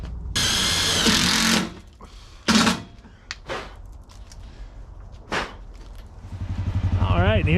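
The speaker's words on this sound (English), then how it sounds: "I just used these self-tapper screws, zipped it in" A power drill drives self-tapping screws into the roof of a Rhino 660 UTV, with several short loud whirring bursts separated by pauses and a rising whine at the end.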